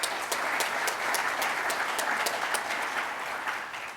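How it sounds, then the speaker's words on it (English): Warm, sustained applause from an audience at a Rotary Club of Tulsa meeting, a thick wash of many clapping hands with occasional crisp claps on top, fading slightly at the end. "Let's give Norm a big round of applause."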